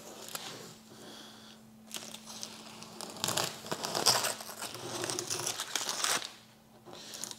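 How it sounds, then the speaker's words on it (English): Tape crackles and crinkles as it is peeled off a paper template for cutting a speaker grill on a Harley-Davidson, in close bursts of rustling with short pauses between pulls. "Now we're just gonna untape it."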